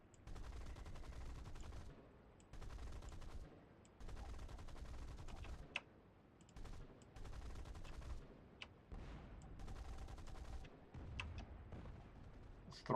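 Bursts of gunfire from ship weapons in the space game Star Citizen, firing in several sustained volleys of a couple of seconds each with short gaps between, loud and close.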